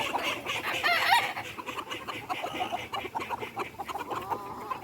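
Chickens and geese being put away on a windy, stormy day, with nearby clucking and squawking calls, a few louder cries among continuous fowl chatter.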